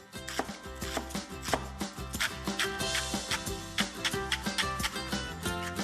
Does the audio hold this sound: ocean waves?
no